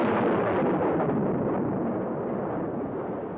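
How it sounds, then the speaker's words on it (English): The Soviet Union's first atomic bomb test in 1949 produces a dense, continuous roaring rumble, heavy and muffled as on an old recording, holding steady and slowly fading with no voices over it. "The Soviets detonated their first atom bomb."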